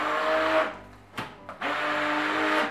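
A kitchen blender mixes dough into a smooth mass, whirring loudly, cutting out briefly with a couple of knocks, then spinning back up to a steady roar.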